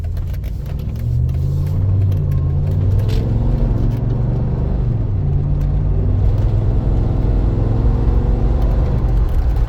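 A 2007 Mercedes G55 AMG G-Wagon on a test drive, its engine rumbling steadily from inside the cabin with a low drone that rises and shifts as it accelerates, loud and continuous throughout.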